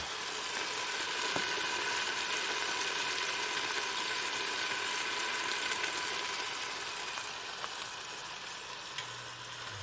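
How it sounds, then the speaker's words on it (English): Steady, close-up sizzling of corned beef hash frying in a pan, a constant crackling hiss with no voices. "Let's bring you in for that close-up sizzle."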